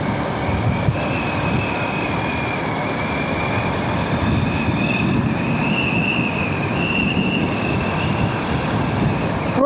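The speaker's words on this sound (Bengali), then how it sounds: "প্রচুর বাতাস, প্রচুর।" Strong wind buffeting during a road trip from Gazipur toward Mymensingh, a constant low roaring rumble with a faint whine above it, steady and loud throughout.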